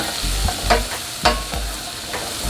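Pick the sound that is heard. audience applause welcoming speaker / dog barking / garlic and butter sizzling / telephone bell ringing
garlic and butter sizzling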